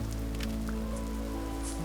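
Rain falling in the video game Vintage Story, a soft steady patter of drops on surfaces with occasional louder taps, fairly quiet and continuous without talking.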